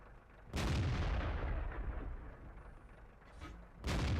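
An E 25 tank destroyer's cannon fires premium rounds in World of Tanks: two loud, close booming shots about three seconds apart, the first rolling into a long rumbling decay before the second blast cuts in.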